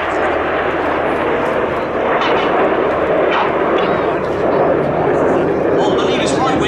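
Red Arrows jets fly in at the Duxford Flying Legends airshow, a loud, steady broadband roar that holds and swells slightly throughout, with a commentator's voice likely carried over the PA.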